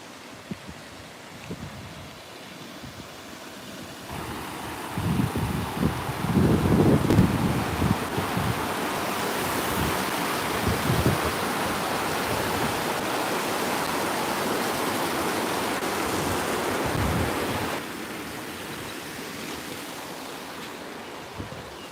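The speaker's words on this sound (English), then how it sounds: "I'll let you guys hear the waterfall as I walk by." A waterfall in La Quinta rushes as a steady broadband roar that swells louder while passing on foot, then eases off again, with faint footsteps underneath.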